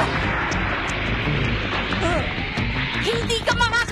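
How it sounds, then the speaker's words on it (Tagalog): A dense, roaring blast of fire and rushing wind combining in the anime Flame of Recca, loud and sustained throughout, with a voice briefly breaking through near the end. "Pinalawak ng hangin ang init ng apoy, kaya sabay silang sumabog."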